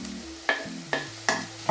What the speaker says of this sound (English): toss in our vegetables, our carrots and our onions, and you should hear a nice sizzle